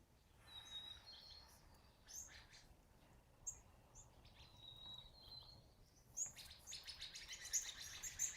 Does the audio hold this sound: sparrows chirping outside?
yes